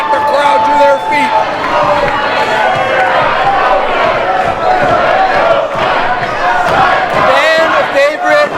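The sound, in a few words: wrestling crowd cheering on their feet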